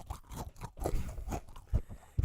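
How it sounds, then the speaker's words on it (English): Close, loud chewing of crunchy yet soft cookies, with repeated bites and crunches coming in uneven bursts alongside heavy breathing near a microphone. "They're like Got a crunch, but they're soft at the same time."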